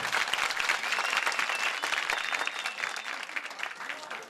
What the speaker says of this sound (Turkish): Biz alkışlıyoruz, siz alkışlıyorsunuz.